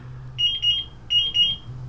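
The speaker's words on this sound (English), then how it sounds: "The unit goes into alarm and you will get OKs next to each sensor." A Draeger X-am portable gas detector goes into alarm with loud, shrill electronic beeps in quick pairs, two bursts of rapid pulsing tones sounding close and clear over a low background hum.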